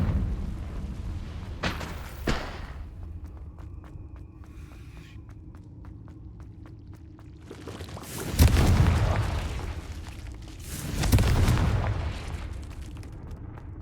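Fiery Confringo explosion spell cast in the Hogwarts Legacy video game, with two loud booming blasts near the middle and end, set among softer footsteps and lighter magical spell effects.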